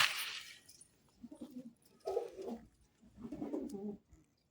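A pigeon with a cold is lifted from a box and coos quietly and close in three short, throaty bursts, after a brief rustle of handling at the start.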